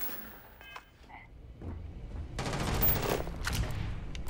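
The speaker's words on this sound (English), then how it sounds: "the Maelstrom, is that I guess that's a like a heavy machine gun" Rapid automatic fire from the Maelstrom heavy machine gun in Starfield, a dense rattling burst that swells and runs continuously through the second half after quieter game sounds and small blips.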